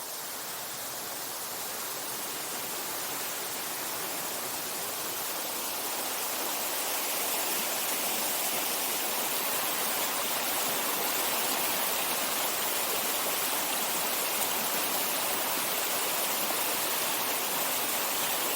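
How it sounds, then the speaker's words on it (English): A waterfall in Afan forest, Wales, pours in a steady broadband roar that grows slightly louder and closer as the clip goes on, with no voices over it. "I'll take you over to show you the waterfall."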